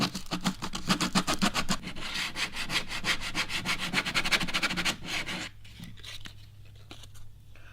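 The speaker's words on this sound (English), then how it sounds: "We're going to use 60 grit sandpaper." Sandpaper of 60 grit roughing a plastic surface, scrubbed back and forth in fast, even strokes, close and steady, then easing to lighter, sparser rubbing near the end.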